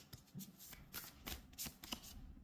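Tarot cards are shuffled close up in a series of quick, crisp riffling bursts, with short soft flutters repeating at an uneven rhythm, quiet and alone.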